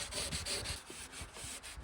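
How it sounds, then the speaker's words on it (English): Rhythmic hand sanding of paint on a Mustang Mach-E GT bumper, steady back-and-forth rubbing strokes with a gritty hiss, close but quiet and unaccompanied by speech. "I just thought I'd get some close-up shots of me just rubbing it down."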